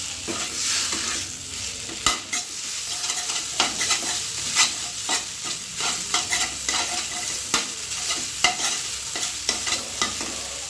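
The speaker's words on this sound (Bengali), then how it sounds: "এখন ভালো করে এটা ভাজতে হবে।" Maggi noodles frying in a pan, with a steady sizzle broken by repeated scraping and stirring clatters from a utensil, close and fairly loud throughout.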